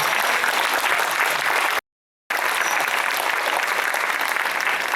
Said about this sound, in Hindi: उसके लिए एक जोरदार ताली हो जाए।